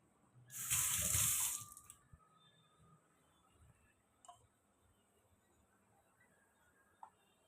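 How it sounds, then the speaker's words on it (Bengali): A kitchen tap runs briefly as hands are washed beneath it, a short close splash of water lasting about a second, followed by faint clicks and quiet room noise. "হাতটা ধুই"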